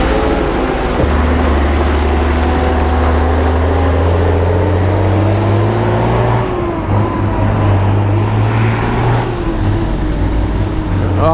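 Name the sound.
noisy truck passing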